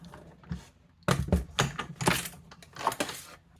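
A die-cutting machine presses paper through a die with a few close, loud crunching and clunking bursts in quick succession, fairly distinct and without speech.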